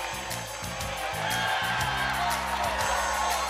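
Studio audience on The Price is Right shouting and cheering in a steady loud wash of crowd noise, with scattered whoops over a game-show music bed.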